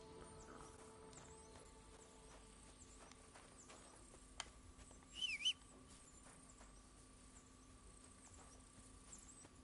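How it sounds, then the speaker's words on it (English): Horse hooves clop along a road in the Kingdom Come Deliverance 2 video game, a faint, steady gait under quiet game ambience, with a brief louder rustle partway through. "get on our horse and follow the road"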